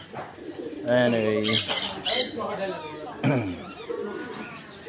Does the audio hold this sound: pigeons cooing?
yes